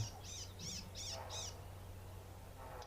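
A small warbler gives a series of four or five harsh, scolding alarm notes in quick succession from a bramble thicket, fairly close, then falls quiet.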